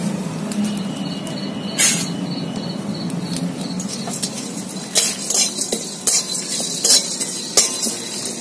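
Black pepper and fennel seeds dry-roasting in a pan for a Bengali dish, giving a soft steady sizzle with scattered sharp clinks and scrapes of a utensil against the pan, growing more frequent toward the end.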